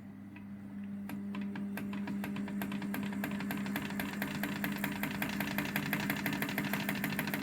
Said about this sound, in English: let me just wind this tape back. Yeah. You have variable wind here from slow.